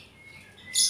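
Bird chirps rise in the last moments, bright high tweets over a faint quiet background.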